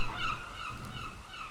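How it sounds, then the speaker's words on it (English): Seagull cries in the video game Valheim, a few faint squawking calls over a steady ambient game background, with no one speaking. "Just got buzzed by a seagull"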